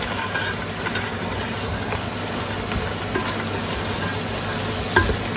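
Potatoes and ash gourd bori frying in a pan with oil, a steady sizzle and hiss under repeated scraping stirs of a spatula, close and continuous, with a louder clatter at the end.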